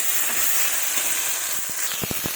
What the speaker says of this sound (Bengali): দেখুন, ভালোভাবে কষাচ্ছি।